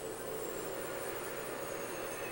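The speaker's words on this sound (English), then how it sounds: "A train named Tommy is now alive." A train in the video game Killer Is Dead gives off a continuous, even rumbling roar that holds steady throughout at low volume, with no one talking.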